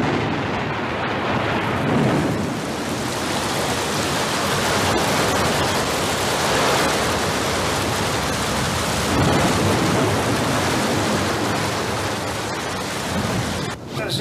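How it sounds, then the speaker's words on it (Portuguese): Heavy rain pours steadily and loudly throughout while deep thunder rumbles and swells beneath it, a dense, unbroken storm wash with no clear voices. "Agora começou a chover"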